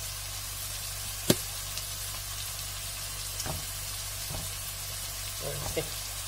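A vegetable sofrito frying in a pan gives a steady low sizzle, broken by a sharp knock and a few soft clatters of utensils, with no talking.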